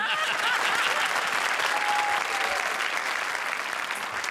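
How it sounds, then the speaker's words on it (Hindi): Studio audience at a comedy show breaking into loud, sustained applause, dense steady clapping that fills the whole stretch without pause. "बोलना तो नहीं चाहती लेकिन जोरदार तालियां"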